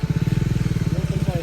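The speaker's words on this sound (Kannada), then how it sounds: "ನಮ್ಮ ಹುಡುಗ ಬೈಕ್ ಮೇಲೆ ಹತ್ಕೊಂಡು ಬಂದ್ಬಿಟ್ಟು ಇಲ್ಲೇ ಸಿಕ್ಕಾಕೊಂಡ್ಬಿಟ್ಟಿದೆ ಗಾಡಿ" A motorcycle stuck on a rocky off-road track idles with a loud, close, rapid thumping engine pulse, steady throughout while voices talk over it.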